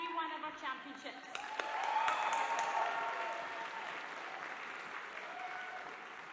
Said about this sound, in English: Can I ask you first of all to start by giving yourself a mammoth round of applause?